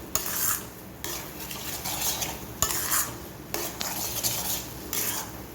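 A spoon scrapes repeatedly through semolina mango barfi roasting in ghee in a pan, rhythmic metallic strokes about once a second over a soft background sizzle, close and clear.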